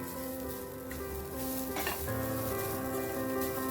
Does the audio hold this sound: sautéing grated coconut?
yes